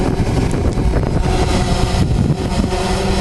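Strong gusting wind buffets the microphone outdoors as a Typhoon H hexacopter drone comes in to land, a loud, steady roar with low rumbling throughout and no voices.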